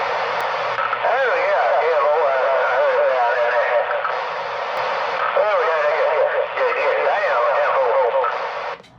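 CB radio transmission with an echo effect, a continuous band-limited voice coming over the channel with a reverberant, repeating quality, loud and steady before cutting off.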